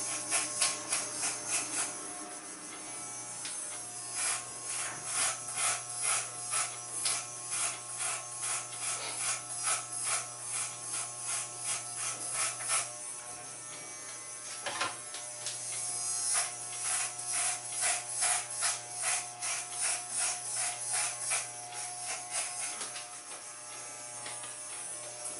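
Electric hair clippers buzz steadily through a men's haircut, close and continuous with a rhythmic pulsing as they pass over the hair, briefly easing off midway before resuming, with no talking.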